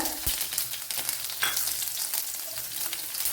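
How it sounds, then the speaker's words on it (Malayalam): Mustard seeds and small shallots hit hot oil in a pan, giving a dense, crackling sizzle with a few sharp pops near the start, close up and without any voice. "കടുക് ഇട്ട് കൊടുക്കാം. കൊച്ചുള്ളി ഇട്ട് കൊടുക്കുക."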